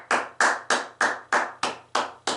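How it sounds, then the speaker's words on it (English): One person claps alone in a played-back video, giving eight sharp, evenly spaced claps at a steady rhythm, fairly close and clear, with nothing else around them. "one guy is clapping"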